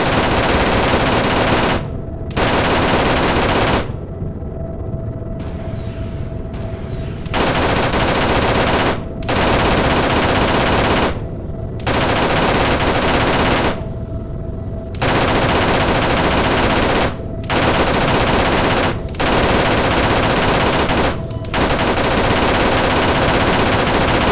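Long bursts of heavy M2 machine gun fire in ArmA 3, loud and close, hammering in sustained strings separated by brief pauses, with no talking over the shots.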